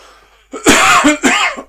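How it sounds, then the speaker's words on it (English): A single harsh cough, close and loud, breaking into two or three rough bursts in quick succession with no talking around it. "There's that cough again."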